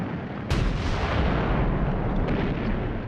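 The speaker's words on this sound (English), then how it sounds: "When the British guns opened up on the Somme on the 24th of June 1916, the windows rattled in London 160 miles away." British artillery guns firing at the Somme in June 1916, a heavy booming blast followed by a continuous low rumbling roar of distant bombardment, loud and sustained with no voices.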